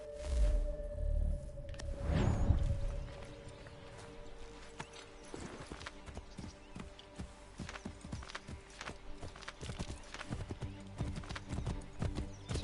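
In the video game Assassin's Creed 3, a horse's hoofbeats clatter at a gallop, close and steady, after a brief deep rumble at the start; no clear talk.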